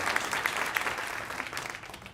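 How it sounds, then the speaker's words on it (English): An audience at a jazz talk gives a round of applause, a dense, moderately distant clapping that slowly softens over a couple of seconds. "if we can just give one more round of applause for Ebony and her work"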